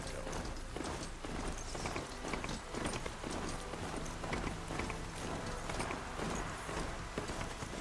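Hoofbeats of the riding mount Pulse in the video game Horizon Zero Dawn, a steady galloping clip-clop that stays close and even throughout, with no voices.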